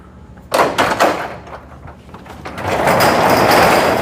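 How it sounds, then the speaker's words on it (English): A car door on a project car being restored for a drag-and-drive event opens with a few sharp clunks and sliding scrapes up close, followed by a louder rushing, rattling sound. "what's cool about this too is that when we open the door"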